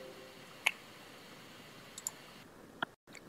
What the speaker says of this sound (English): and I'm going to click accept.